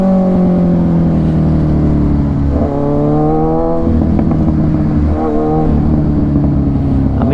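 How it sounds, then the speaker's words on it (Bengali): Heavy road traffic heard from a superbike on a busy city road: a constant, loud engine roar close by with shifting engine tones and a vehicle swelling past, with no talk. "এনিওয়েজ ট্রাফিক কিন্তু খুবই বেশি।"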